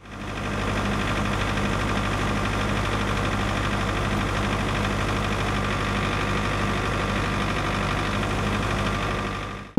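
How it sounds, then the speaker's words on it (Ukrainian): Heavy engine of a tractor or motor pump running steadily at a burst water pipe repair site in frost, a loud, constant low drone with a knocking idle rhythm throughout, alone with no talk. "У них трактори та мотопомпи."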